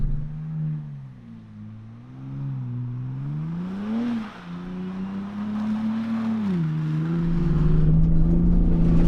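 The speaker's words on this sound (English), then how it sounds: "It's a V6 engine, obviously." Engine drone from a 2024 Ford Bronco Raptor with a 3-liter V6 driving off-road, a steady low hum that rises and dips with throttle, dips around four seconds, then swells louder toward the end.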